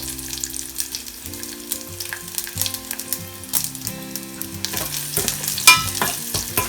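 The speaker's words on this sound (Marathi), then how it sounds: "लसूण चांगले फ्राय करून घ्यायचे" Garlic fries in a pan with a loud, close sizzle and crackle while a utensil stirs and scrapes in uneven strokes. A steady tonal hum runs underneath, and the frying grows busier toward the end.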